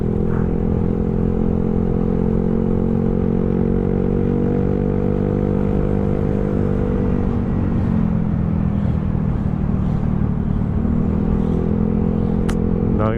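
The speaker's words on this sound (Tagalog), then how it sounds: "Daming mga nakamotor galing Monte Maria yan mga brother." Many motorcycles riding past from Monte Maria near Batangas City, a loud, continuous engine roar with shifting revving pitches and some clatter, a few bikes passing close, with no talk.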